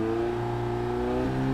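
A 2015 Audi A3's engine revs and holds a steady, loud drone with a slight pitch rise near the end, heard from inside the car.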